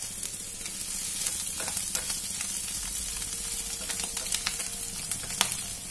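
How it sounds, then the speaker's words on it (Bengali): Bottle gourd peel and broken egg stir-fry in a pan, giving a constant dense sizzle with scattered crackles and light spatula ticks throughout, no voices. "ডিম ছোট ছোট টুকরো হয়ে গেলে এবার লাউ চোচা ভাজার সাথে ডিমটাকে নেড়ে চেড়ে আরো 2 মিনিট ভেজে"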